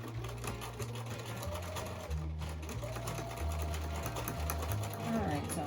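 Sewing machine stitching binding on a small fabric mug rug, a close steady mechanical whir running in short bursts with a brief pause partway through.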